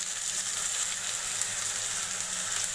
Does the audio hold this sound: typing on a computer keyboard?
no